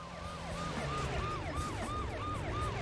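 A police car siren in the Stuart Little 3: Big Photo Adventure video game, a rapid rising-and-falling wail repeating about twice per second over a steady engine rumble, loud and continuous.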